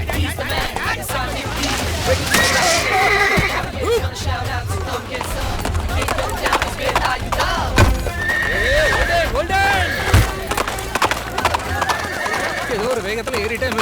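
A horse whinnies and neighs repeatedly while its hooves clip-clop nearby in a lively comedy scene. People talk over the animal throughout.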